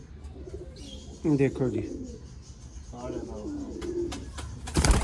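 Teddy pigeons cooing in a breeder's loft in Sialkot, soft throaty coos rising and falling over a low background hum while someone speaks briefly nearby.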